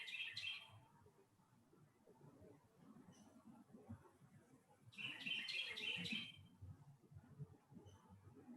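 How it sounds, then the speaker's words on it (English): Small bird chirping outdoors in short bursts of high tweets, a cluster at the start and a longer, louder run midway, over a quiet low background with no talk. "If anybody knows what bird that is, please let me know"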